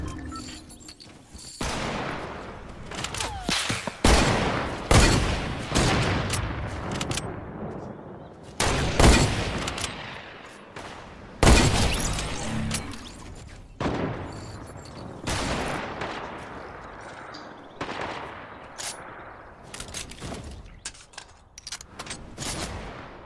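Gunfire in the video game Fortnite, repeated loud bursts of rapid shots and single sharp cracks separated by short quiet gaps, some volleys rattling on for a second or more.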